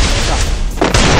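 A single heavy, booming gunshot headshot in the battle royale game Garena Free Fire lands sharp and loud over a short stretch of dense game noise.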